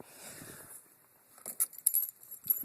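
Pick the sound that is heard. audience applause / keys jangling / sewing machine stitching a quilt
keys jangling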